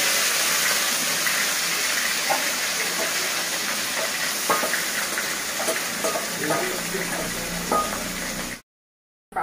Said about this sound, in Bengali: পাতা তেলের মধ্যে যত নাড়বে তত খেতে ভালো লাগবে।